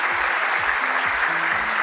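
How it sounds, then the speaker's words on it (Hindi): Audience applause at a corporate award night in Surat, a dense steady clapping that holds loud and continuous from start to finish, with a low rhythmic thumping pattern beneath it. "जोरदार तालियां होंगी सर के लिए भी"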